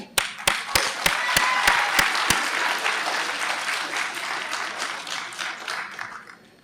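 An audience at a 9/11 remembrance event breaks into a loud round of applause, opening with a few sharp, distinct claps that blend into a dense, steady wash of clapping before it slowly thins out.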